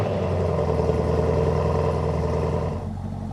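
A Chevrolet Camaro's engine running close by, a steady rumbling idle that holds evenly and then eases off slightly near the end, with no talking.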